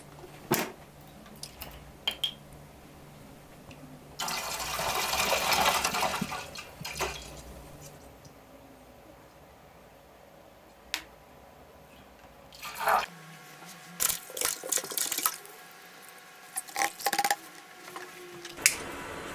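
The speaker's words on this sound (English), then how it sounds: "Pour the milk slowly into the pot." Fresh local cow's milk, about 50 liters, poured slowly into a large pot: a soft liquid rush building for several seconds, then scattered drips and splashes with clunks, close and without speech.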